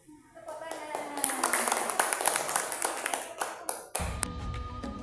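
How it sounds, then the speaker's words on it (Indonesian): Audience clapping at a kindergarten class session at TK Negeri 1 Toboali, sharp uneven hand claps in a steady patter for several seconds with voices over them, stopping abruptly near the end. "Tepuk tangan."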